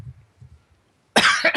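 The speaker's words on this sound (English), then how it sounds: "I'm getting over a little bit of a cold, everybody. So apologize if I cough." Someone getting over a cold gives a loud, harsh cough burst, one long hack followed by a shorter one, standing out after a quiet stretch of low murmuring.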